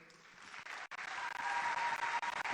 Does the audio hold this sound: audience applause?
yes